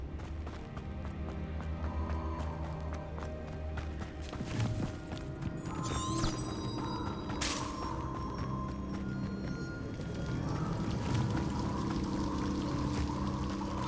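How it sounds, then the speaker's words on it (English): Waterfall in the video game Hogwarts Legacy, a constant rushing pour of water, with a few brief clicks and chimes from the game layered on top. "The waterfall."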